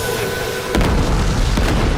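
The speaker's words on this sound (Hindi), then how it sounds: "मेहमद अपनी सारी तोपों से शहर पर हमले किया करता था।" Cannon fire from Ottoman siege guns bombarding a city: a heavy, loud boom hits near the start of the second half and rolls into a long rumbling tail, with a second, softer thump following shortly after.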